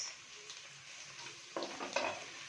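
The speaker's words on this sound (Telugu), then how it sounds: "ఫస్ట్ మనము క్యాబేజ్ వేస్తాము. క్యాబేజ్, తర్వాత బీన్స్." Cabbage and beans stir-frying after scrambled egg for chicken soft noodles: a soft continuous sizzle, then louder tossing and scraping bursts near the end.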